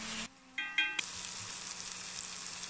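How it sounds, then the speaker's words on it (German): Garlic mushrooms frying in butter in a pan, a steady close sizzle and crackle after a brief tonal beeping at the start, with faint stirring, no voices. "Rühren, rühren, rühren, rühren. Umrühren."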